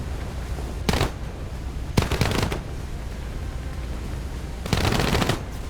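Aircraft machine guns in a combat flight video game, the BV 238 flying boat, fire three sustained bursts of rapid automatic gunfire with pauses between, loud and close.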